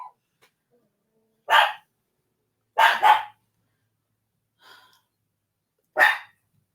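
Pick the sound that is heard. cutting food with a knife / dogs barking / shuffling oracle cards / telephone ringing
dogs barking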